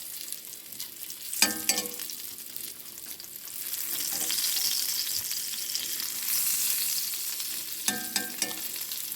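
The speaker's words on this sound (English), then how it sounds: "Side meat will shrink up when you cook it because there's a lot of fat content in it, and you can see it's coming out in the pan." Fatback side meat frying in a pan, a soft, continuous sizzle that swells in the middle, with a couple of brief clattering stirs of a fork near the start and end and no speech.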